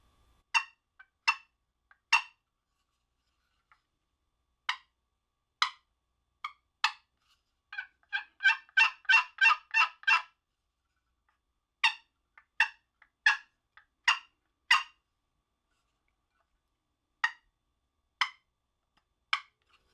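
Sharp, high-pitched turkey calls blown in short bursts, single yelps then a rapid run of clucks in the middle, loud and close with silence between.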